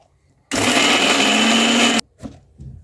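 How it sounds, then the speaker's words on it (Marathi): A mixer grinder roars loudly for about a second and a half grinding roasted coconut, ginger, onion and garlic, then cuts off abruptly, followed by a couple of faint knocks. "आता मिक्सरमध्ये वाटून घेऊ।"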